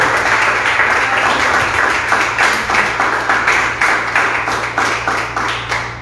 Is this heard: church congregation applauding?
yes